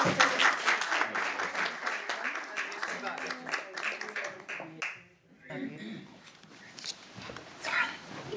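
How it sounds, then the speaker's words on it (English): Applause from an audience at a school board education meeting honoring students, a dense round of clapping with voices mixed in, briefly dipping midway before picking back up. "if you would please just give them another round of applause"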